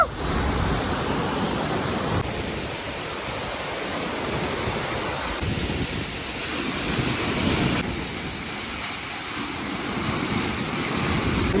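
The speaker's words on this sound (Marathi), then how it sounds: "आम्ही फायनली वॉटरफॉल जवळ पोहोचलोय" Waterfall at Mini Devkund near Mahad in Raigad, heard as steady, broadband rushing water that stays fairly loud throughout, with slight shifts in texture and no voices.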